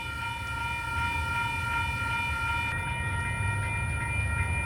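A train rolls slowly off one track onto another, giving a steady low rumble with a sustained high metallic squeal from the wheels, fairly close and continuous, with no voices.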